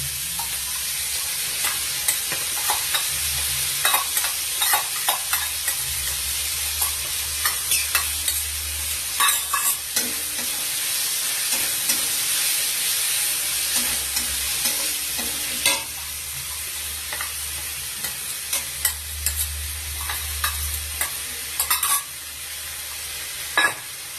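A paste of ginger, garlic, poppy seeds and melon seeds fries and spatters in a pan, a continuous loud sizzle punctuated by repeated spoon scrapes and knocks as it is stirred.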